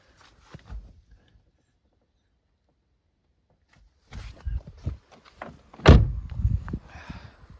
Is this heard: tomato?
no